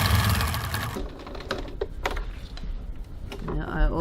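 Sewing machine stitching back over the end of a crossbody bag to reinforce it, a fast whirring rattle that starts loud then breaks into short bursts and clicks.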